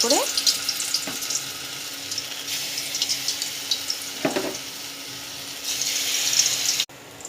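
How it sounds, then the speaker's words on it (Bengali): Ground lentil fritters frying in oil in a wok, a continuous close hiss and sizzle with a few clinks of a utensil, ending abruptly. "বড়াগুলোকে ভেজে নেব।"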